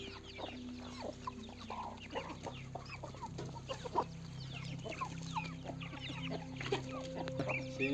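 Free-roaming native chickens cluck and chatter on a small farm in India, with many short, overlapping calls close by and a low steady hum underneath.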